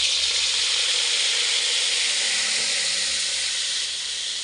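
Soy sauce poured into pancit cooking in a hot pan, giving a steady, loud, hissing sizzle of steam that holds evenly throughout with no talk.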